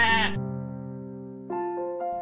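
A sheep bleats with a long, wavering, tonal cry that shifts pitch partway through. It sounds close and clear, with no talk over it, and belongs to a children's retelling about speckled goats and brown sheep.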